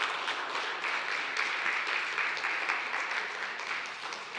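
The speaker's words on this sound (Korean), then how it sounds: "다시 한번 큰 박수 부탁드리겠습니다." A church congregation at a Korean Methodist Sunday service applauds, a close, sustained wash of clapping from many hands that fades slightly toward the end.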